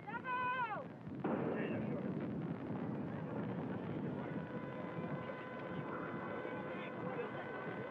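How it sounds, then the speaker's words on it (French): Miron factory chimneys blown up during demolition: a deep, sustained rumbling roar follows a brief tone and persists for several seconds, heard from a distance under someone talking on a television broadcast. "Ça va exploser dans 2 secondes."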